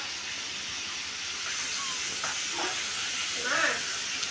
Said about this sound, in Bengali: গাইস এই দেখো আমার মা মাছ রান্না করছে।